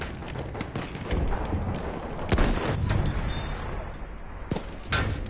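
Tank gunfire in a PS4 war game: dense, loud volleys of booming shots and cracks over a constant battle rumble, with several sharp heavy blasts standing out.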